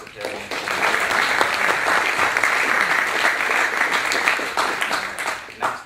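Sustained applause from an audience at an African student community symposium in Groningen, dense clapping filling the hall steadily for several seconds with faint voices mixed in.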